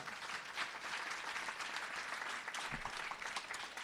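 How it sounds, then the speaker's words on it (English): Steady audience applause at a Broward County commissioners debate, a room full of clapping hands sustained evenly throughout, fairly faint and without voices on top. "Give yourselves a round of applause."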